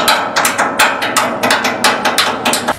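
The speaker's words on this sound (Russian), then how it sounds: "чистим просто молоточками. Технология такая, надо бить по касательной." Small hammers chip paint off a large homemade Christmas ornament, struck at a glancing angle: a steady run of sharp metallic taps, roughly three or four per second, close and fairly loud with no talk.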